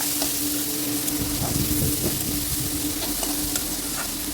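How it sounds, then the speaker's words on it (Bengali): Potatoes stir-frying in a pan with salt and turmeric for a browned Bengali potato fry: a steady close sizzle with scraping stirs and small spatula knocks, continuous throughout, no voices. "এবার হলুদ গুঁড়ো দিয়ে একটু কষিয়ে নেব এভাবে"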